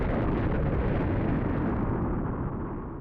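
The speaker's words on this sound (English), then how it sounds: "Paired with the boiler exploding, it felt like the Big Bang had just occurred." Massive boiler explosion in the horror video game Otogirisou, a loud sustained roaring blast with deep rumble that holds steady and only slowly tapers at the end.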